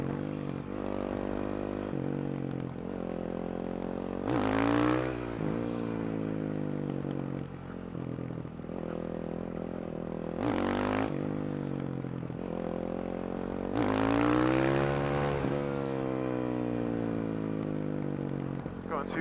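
A supermoto motorcycle engine revs and drones through a long wheelie, rising and falling in pitch as the throttle opens and eases, loud and steady with strong whining surges.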